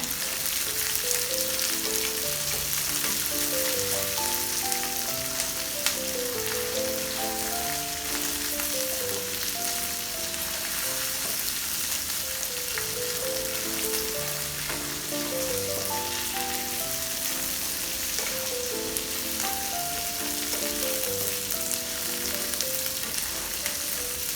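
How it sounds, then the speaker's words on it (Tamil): Garlic, curry leaves, onion, dried chillies, pepper and cumin fry in oil for a Chettinad fish curry, making a dense, even sizzle and crackle that goes on without a break, with melodic music playing underneath and no speech. "கொஞ்சம் கருவேப்பிலை போட்டுக்கிங்க. போட்டு பொன்னிறமாக நல்லா வறுத்துக்கிங்க"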